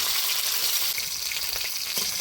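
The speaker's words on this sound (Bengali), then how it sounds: "পটল মাছটাকে পুরো পারফেক্টভাবে ভেজে নিচ্ছি" Potol fish sizzling steadily as it fries in hot oil in a pan for a spicy curry, a dense continuous crackle with small spatters, close and without talk.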